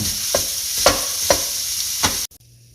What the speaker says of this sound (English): I'm just going to break it apart and brown it.